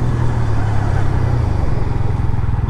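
A Bajaj Pulsar N125 motorcycle braking hard on a test ride, a loud steady rush of engine and wind noise with a low engine drone easing down, recorded close from the rider's position.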